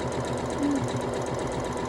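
A sewing machine runs steadily while stitching a large gnome quilt block, its fast, even needle chatter continuing close by for the whole moment with no one speaking.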